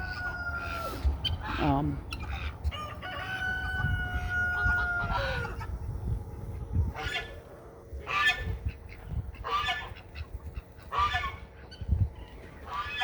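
Poultry calls fill the scene: a rooster crows early, followed by repeated honking and clucking from birds nearby, with a voice occasionally in the background.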